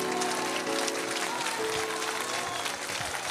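A congregation at a deliverance service claps and cheers steadily in praise, a dense wash of applause with voices mixed in throughout.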